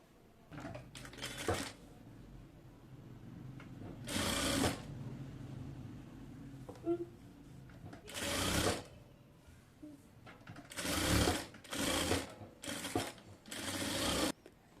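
Sewing machine stitching a hijab cap together, running in several distinct loud bursts of rapid mechanical whirring separated by quieter handling and rustling.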